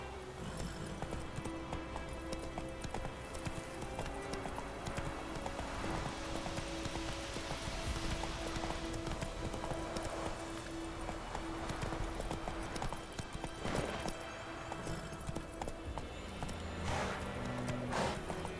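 Roach the horse gallops in The Witcher 3 with steady, rapid hoofbeats and clip-clop under a continuous game soundscape, with occasional faint whinny-like sounds throughout.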